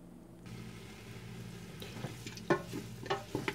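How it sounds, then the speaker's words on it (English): A Heinz 57 and Worcestershire sauce mixture is stirred by hand over a stove, giving faint scraping and clinking strokes that grow into a few sharper knocks toward the end, with no voices. "Now I'm going to mix that all together"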